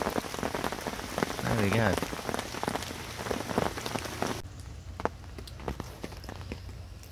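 Rain drums steadily on a bivvy shelter during a carp fishing session, a dense close patter with a few footsteps. Someone speaks briefly, and the patter becomes softer and more muffled partway through.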